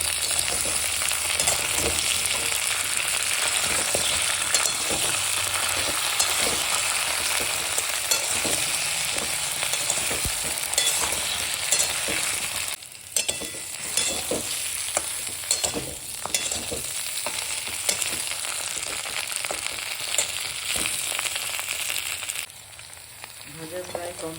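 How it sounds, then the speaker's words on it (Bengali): Potatoes and flat beans frying in oil in a pan give off a loud, continuous sizzle close by, broken by quick stirring scrapes and one brief dip in the hiss. "আলুগুলোকে প্রায় ভাজা হয়ে গেছে এবার সিমগুলোকে দেবো"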